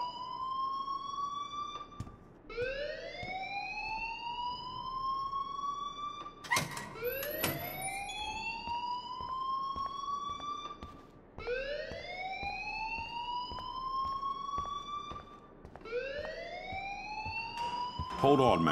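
A school alarm in the Life Is Strange video game wails in repeated rising sweeps, each siren-like tone climbing and holding before the next begins, loud and continuous throughout with a brief sharp clatter midway.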